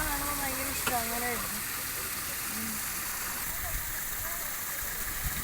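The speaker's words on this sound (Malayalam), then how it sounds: "ഇത് മുകളിൽ നിന്ന് വരുന്ന വെള്ളം, മലയിൽ നിന്ന് വരുന്ന വെള്ളമാണ്." Mountain stream water running down from the hills near a temple, a steady broadband rush throughout, with a voice talking over the first part and occasional faint bird-like chirps.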